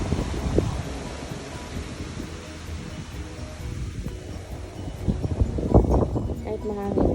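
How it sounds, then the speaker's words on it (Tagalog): Strong wind blowing through a garden during a storm, a steady roaring rush with gusts and rustling foliage, with a voice speaking briefly near the end. "Grabe ang hangin, no?"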